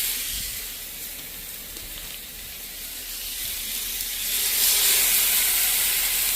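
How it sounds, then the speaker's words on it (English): Steady sizzling hiss of a thick New York strip steak searing in a hot skillet, swelling louder toward the end, with no voices over it. "When this steak touches this pan, it needs to be sizzling really well."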